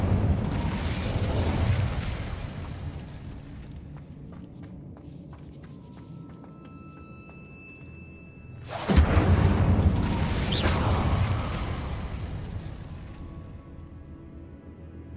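Incendio fire spell cast in the video game Hogwarts Legacy: a loud whooshing burst of flame that fades, then a second strong fiery blast roars up midway, with faint footsteps and game ambience between.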